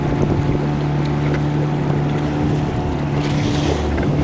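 A motorboat passes along a river near Governor's Rapids, its steady engine drone mixed with wind and lapping water, continuous and fairly loud throughout.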